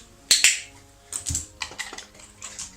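A handheld dog-training clicker gives a few sharp, close clicks at irregular intervals, with faint rustling and handling noises between them and no talking.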